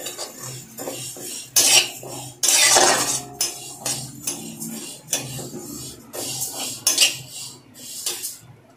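Moong dal dry-roasts in a pan as a utensil scrapes and clanks against the metal in repeated loud strokes, irregular stirring bursts with short pauses between them.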